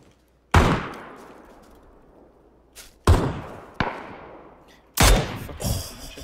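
Gunshots in the video game PUBG: three sharp, loud single reports spaced a few seconds apart, each with a long decaying echo tail, the last one followed by a short burst of rapid follow-up shots.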